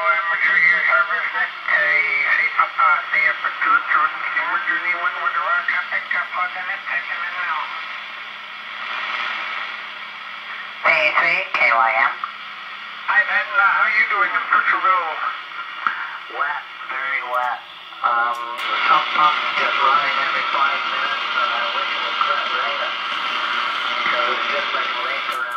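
Radio reception cleaned up by an MFJ-1026 noise cancelling device: a voice comes through clearly over the receiver with the background hiss largely suppressed, speech continuing steadily throughout with short pauses.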